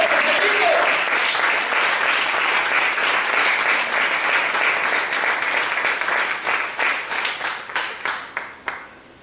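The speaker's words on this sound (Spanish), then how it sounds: "dale palmas con todo tu corazón a Cristo" A church congregation applauding together, dense sustained clapping that carries on for several seconds before tapering off into a few scattered, sharper claps at the end.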